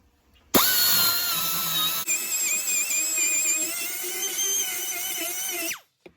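A power tool port-matching an intake to a 70mm throttle body whines loudly and steadily at close range, its pitch wavering as it grinds metal and throws shavings, then cuts off abruptly.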